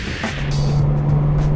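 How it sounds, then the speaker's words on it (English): A Jaguar XJ-S with a V12 engine pulls away, a loud, close, steady engine drone that swells slightly over a second and a half, with no talking. "V12's pulling away."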